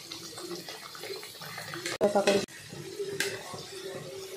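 Papad for golgappa frying in hot oil in a wok, giving a steady crackling sizzle that swells into a louder burst midway, with a faint voice in the background.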